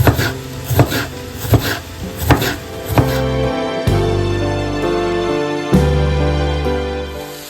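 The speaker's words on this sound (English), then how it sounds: "Slice the bitter melon." A knife slicing bitter melon on a board, a run of crisp rhythmic chops followed by a few slower, heavier cuts, close and distinct with no talk.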